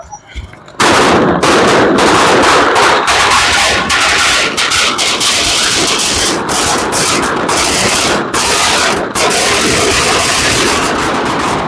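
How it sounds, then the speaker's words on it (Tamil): Firecracker strings set off in celebration in front of the Kakkaitivu market in Jaffna, Sri Lanka: after a brief quieter start, a loud, dense, continuous barrage of rapid crackling bangs that runs without letup. "இளைஞர்கள் இந்த வெடி கொளுத்தி சந்தோஷமாக இந்த நிகழ்வை ஆரம்பித்து வைக்கிறோம்"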